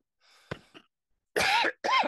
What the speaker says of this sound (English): Sorry about this cough of mine.